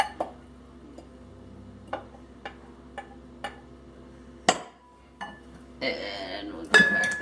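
A utensil stirring vegan, egg- and dairy-free quiche filling in a bowl, sparse clinks and taps against the bowl with a brief rustle and scrape near the end, close and intermittent.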